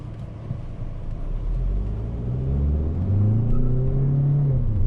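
Peugeot 508 sedan with a 1.5 BlueHDi 130 hp diesel pulling away from a start, heard from inside the cabin as a steady low engine drone that climbs in pitch and grows louder as the car gathers speed.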